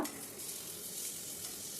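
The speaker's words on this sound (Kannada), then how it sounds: "ಎಣ್ಣೆ ಹಾಕ್ಬಿಟ್ಟು ಸಾಸಿವೆ ಹಾಕಿ ಕರ್ಬೇವಿನ ಸೊಪ್ಪು ಹಾಕಿದ್ದೀನಿ ನೋಡಿ" Mustard seeds and curry leaves sizzle in hot oil as a tempering for sambar. The crackling hiss is close and steady, with no talk over it.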